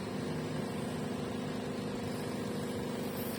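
A Latina Altro espresso machine hums with a steady, even mechanical drone throughout, at moderate level with no voices.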